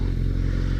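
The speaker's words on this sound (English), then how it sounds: "Low RPMs, this exhaust goes pop, it's great." A motorcycle exhaust burbles at low RPM in traffic, a brief, close, steady low rumble with faint crackling texture and no talking.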